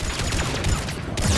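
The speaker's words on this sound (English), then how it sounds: "I'm gonna shoot him a lot" Gunfire in the Mass Effect 3 video game: a quick burst of rapid automatic shots rattling out in a steady stream, moderately loud against a busy combat background, lasting just over a second.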